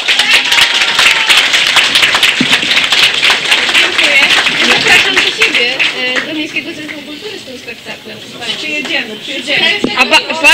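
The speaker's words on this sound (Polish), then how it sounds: "Wielkie brawa" Audience applause at a Polish Shrovetide carnival gathering of a women's association and seniors' club, dense clapping loud and steady for several seconds, then thinning to scattered claps and voices toward the end.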